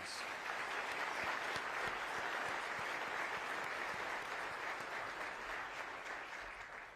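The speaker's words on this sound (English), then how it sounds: "Can we give them a round of applause?" A large audience gives a sustained round of applause at the 2024 State of Milwaukee County address, even and full-bodied, with some distinct nearby claps standing out before it slowly tapers off.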